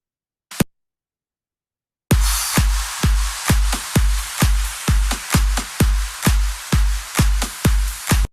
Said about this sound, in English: all of the drums, including some effects, sound like this.